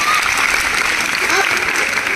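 Loud, sustained applause from an audience at a school ceremony honouring teachers, with dense clapping filling the whole moment.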